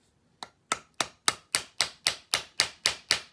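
A .45 ACP case-reloading tool from a Lee Precision hand kit, tapped on the knees: about eleven sharp, evenly spaced knocks, close and crisp, with nothing else in the background.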